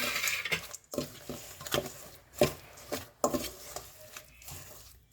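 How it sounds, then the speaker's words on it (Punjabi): A spoon scrapes and knocks against a bowl while millet flour is stirred together with coconut, cashews and almonds for laddu, giving irregular close clinks and soft scraping strokes. "ਹੁਣ ਆਪਾਂ ਇਹਨੂੰ ਮਿਕਸ ਕਰ ਦਿਆਂਗੇ"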